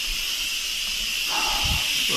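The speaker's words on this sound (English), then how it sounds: "we are going to get the steam out" Steam venting from an Instant Pot's pressure release after cooking one-pot pasta, a steady hiss running throughout with a few low thumps near the end.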